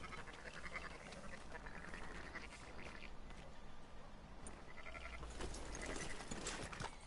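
Sheep bleating in the Red Dead Redemption 2 video game, a few soft bleats and animal calls spread over a busy game soundscape with steady background ambience, no voices.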